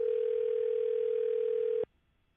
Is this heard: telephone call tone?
yes